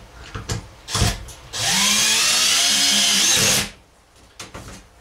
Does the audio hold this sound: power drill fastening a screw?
yes